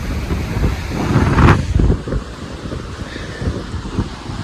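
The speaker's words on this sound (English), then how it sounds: "I want to get out of there before the waves get too strong." Waves break against rocks on a cold, windy lake shore at Headlands Beach State Park, Ohio, with one loud close splash swelling early on before a steady washing roar mixed with wind gusts.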